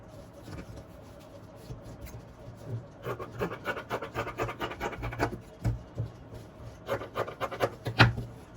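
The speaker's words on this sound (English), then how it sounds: "just cutting out any excess" Scissors cut away excess fabric lining for an aso-oke fila cap, producing a run of quick, close rustling snips and scratchy fabric rubs, sparse at first, then in dense rhythmic bursts.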